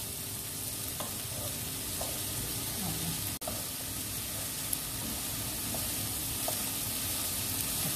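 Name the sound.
bell pepper and carrots frying in a pan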